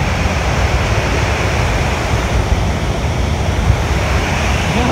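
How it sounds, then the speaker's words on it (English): Steady broadband roar of a waterfall at Letchworth State Park, a dense continuous rush of falling water heard close and loud with no voices over it. "Here's the waterfall."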